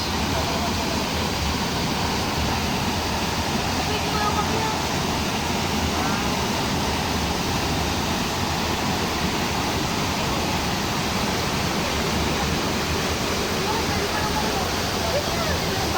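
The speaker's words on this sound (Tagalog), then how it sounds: "Ito po yung Talay Falls." Talay Falls waterfall roars as a steady, loud, unbroken wash of water throughout, with faint voices mixed into the constant rush.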